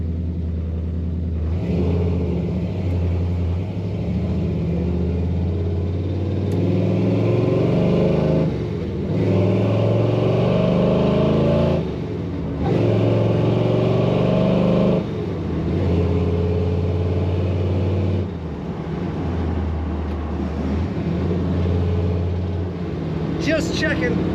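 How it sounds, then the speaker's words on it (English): A 1972 Chevrolet Chevelle with a four-speed manual transmission: deep exhaust rumble idles and swells in repeated revs, loud and close, with a person talking over it. "Nice rumble to this car."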